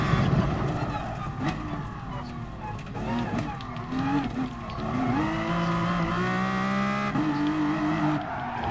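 Race car engines drone and whine with shifting pitch during a Gran Turismo Sport race, a continuous layered roar with rising and falling tones, and someone speaks briefly over it.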